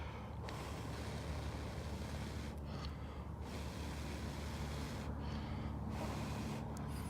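Firm breaths blown onto a tightly wrapped smudge stick to get it lit, a steady rushing airflow with a few short puffs standing out, heard close with no talk.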